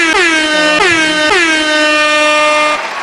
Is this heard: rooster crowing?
no